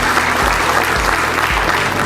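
Dense audience applause at the 4th edition of an event, steady and continuous clapping from a large crowd throughout, no voices standing out above it.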